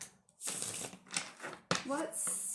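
Tarot cards being shuffled by hand in a few quick, close riffling bursts separated by short pauses, with a brief voice sound mixed in.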